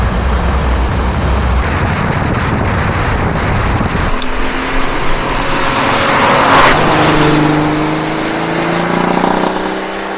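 A Porsche 930 911 Turbo engine roars loud and close, its rough drone climbing steadily in pitch as the car accelerates, with no talk over it.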